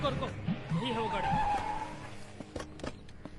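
Car arriving with skidding tyres in a Hindi action film, a brief tyre squeal and engine rush rising then fading, followed by a few sharp knocks and thuds, with voices speaking over the start.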